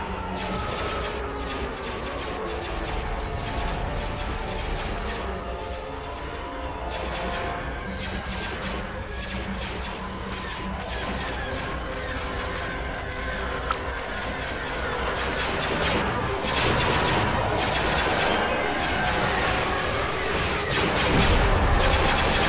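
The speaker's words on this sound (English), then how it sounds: "Direct all fire on the shield generator." Starship weapons pound a shield generator in a Star Wars space battle game, a dense, continuous roar of rumbling blasts and booms layered with sharper crackling impacts, swelling louder toward the end.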